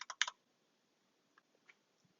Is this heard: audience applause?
no